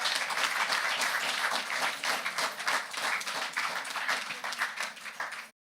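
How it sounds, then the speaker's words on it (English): Audience at the opening of a health and wellness centre gives another round of applause, brisk clapping from many hands, moderately close and even, continuing steadily before cutting off abruptly at the end. "I think we need to give her another round of applause"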